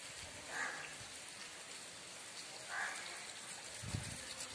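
Winter rain falls and pours from above, a soft steady hiss of drops at low volume, broken by a few brief faint calls and a low thump.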